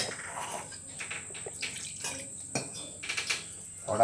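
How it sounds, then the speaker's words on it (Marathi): Water is added to prawn curry in a pot, soft splashes and pot clinks scattered through the moment, close but quiet, with brief voice sounds. "थोडा अजून पाणी टाकू जा"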